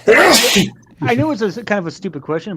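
A single loud, sharp sneeze at the start, followed by a person talking close to the microphone.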